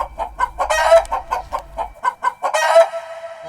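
A hen clucks in quick, repeated bursts, with two louder, sharper squawking calls, loud and close with nothing else around.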